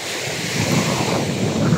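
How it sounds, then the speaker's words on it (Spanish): Strong ocean surf breaks on a beach as a continuous, loud, roaring wash of water, heard close with wind buffeting the microphone and no voices. "Un oleaje de madre."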